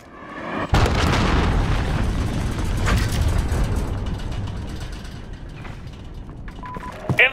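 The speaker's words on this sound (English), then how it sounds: "Missile incoming!" A missile strike in the game Call of Duty Modern Warfare (2019) multiplayer sets off a sudden loud explosion, followed by a long roaring rumble that slowly fades while small sharp noises crackle near the end.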